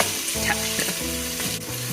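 Bacon fries in a pan with a loud, steady sizzle and crackle, the spitting close and continuous, alongside a stirring scrape.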